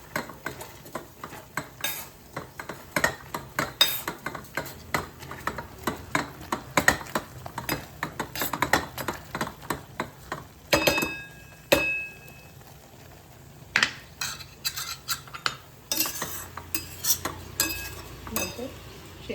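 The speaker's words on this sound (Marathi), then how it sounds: "नंतर याला पावभाजी मॅशरनं थोडं मॅश करा।" Soft cooked tomatoes being mashed in a pan with a metal pav bhaji masher, a steady stream of clinks and scraping knocks against the vessel, with brief pauses.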